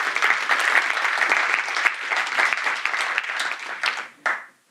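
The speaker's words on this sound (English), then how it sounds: "Let's give them a big round of applause." A keynote audience gives the event sponsors a big round of applause, dense and steady clapping that carries on evenly before cutting off abruptly near the end.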